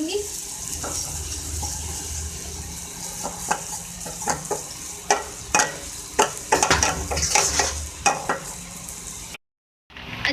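Maida flour roasts in a pan under repeated scraping and stirring strokes over a low, soft frying hiss. The sound cuts out briefly near the end.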